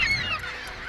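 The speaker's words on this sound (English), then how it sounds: "The noisy gulls have already driven one couple out of their flat." A single short, loud burst of raucous calling from urban seagulls in inner-city Birmingham, close by and harsh.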